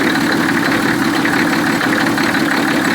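A 1985 Oldsmobile 98 engine idling as it warms up after an injector pump replacement, a loud, steady, close rumble with a faint knocking texture, continuous and without voices.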